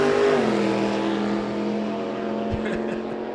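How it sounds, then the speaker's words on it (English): A hubcap-equipped low 10-second Chevy Nova and a blown, supercharged 1930 Model A at a Byron Dragway drag race, heard as a loud, steady engine drone whose pitch drops early on, with talk over it. "The hubcap equipped low 10-second Chevy Nova left side and the blown supercharged"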